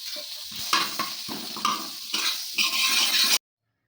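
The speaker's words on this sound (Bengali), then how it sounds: "এখানে আমি বাটার দেব, আপনারা চাইলে সাদা তেলও দিতে পারেন।" Butter sizzles in a kadai on a nonstick cooker on the stove, close bursts of hissing mixed with clattering spatula scrapes against the pan, ending abruptly into silence.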